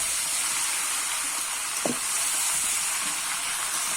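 A fish head is sautéed in a pan with salt, turmeric and spices. A constant close hiss of sizzling runs throughout, broken by a brief stirring scrape near the middle.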